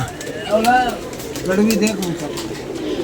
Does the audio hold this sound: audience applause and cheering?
no